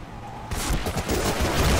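Dense gunfire from the Medal of Honor: Rising Sun video game bursts in abruptly after a quieter moment and continues as loud, rattling, overlapping volleys of shots for the rest of the stretch.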